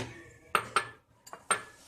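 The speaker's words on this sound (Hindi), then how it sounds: "अब हम इन सारे सामान को मिक्स करेंगे" A utensil clinks against a bowl while vegetables, breadcrumbs, soy sauce and chilli sauce are mixed for noodle balls, four or five sharp metallic taps in an uneven rhythm, close and quiet.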